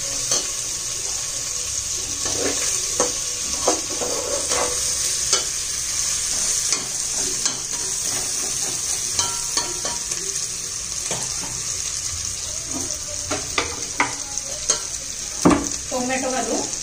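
Vegetables for soybean pulao frying lightly in a pan, a steady bright sizzle running throughout with frequent quick spoon scrapes and clicks as they are stirred, close and continuous.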